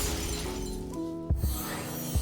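A Shatter spell card played in the Hearthstone video game: a shimmering tonal chime with sustained ringing notes, then a few sharp, low, punchy impacts close together, loud and alone.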